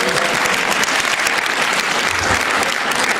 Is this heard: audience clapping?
yes